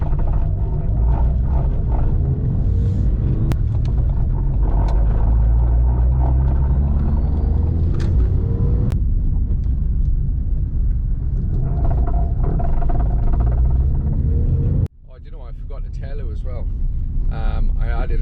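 A car with a newly installed engine idles and runs steadily as it warms up, a low rumbling drone that continues for a long stretch, with a brief dip and a change in tone near the end.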